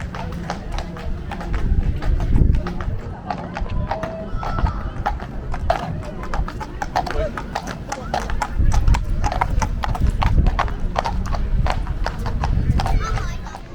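Horses clip-clop near the stables, a dense run of hard hoof taps on pavement at close range, with a neigh and people talking throughout.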